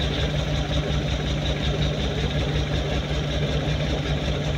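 A Suzuki Multicab engine idles roughly with its number 3 spark plug pulled out, producing a continuous low, steady hum with a faint uneven throb, close and moderately loud with no voices.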